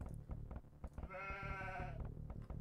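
A sheep in Age of Empires 2 gives one clear wavering bleat lasting about a second, set against busy game sound effects with clicks and taps.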